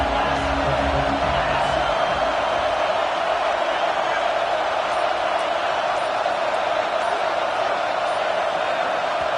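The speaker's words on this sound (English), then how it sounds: "the crowd forces a false start" A packed stadium crowd at an American football game roars steadily throughout, a dense, loud wall of cheering and noise with no breaks, heard from within the stands.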